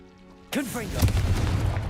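Confringo fire spell in Hogwarts Legacy, a sudden loud blast with a sweeping whoosh, followed by a booming burst and crackling rumble that lingers; a short spoken voice precedes it.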